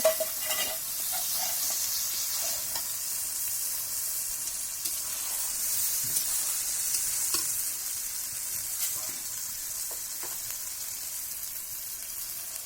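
Chicken with spiced masala stirred and fried in a kadai, a continuous loud sizzle broken by repeated scraping and stirring knocks of the spatula, close by and without talk.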